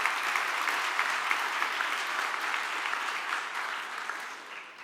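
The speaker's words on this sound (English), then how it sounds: "Yeah, you can clap." An audience at a React Native developer conference applauds in a steady, dense wash of many hands clapping, sustained for several seconds and tapering off slightly toward the end.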